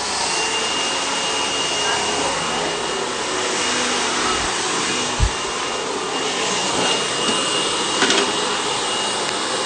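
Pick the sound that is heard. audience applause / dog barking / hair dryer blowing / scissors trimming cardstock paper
hair dryer blowing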